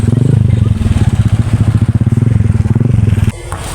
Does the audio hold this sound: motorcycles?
yes